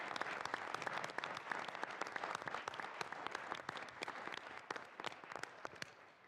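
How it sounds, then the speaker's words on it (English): An audience at an organizational meeting gives a round of applause, a dense, steady patter of many hands clapping at moderate distance that tapers off slightly at the end. "Let's give another round of applause to the entire team."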